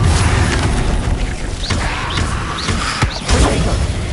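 Incendio fire spells cast repeatedly in Hogwarts Legacy, each a whooshing burst with a crackling flare, several casts in quick succession over steady game background noise.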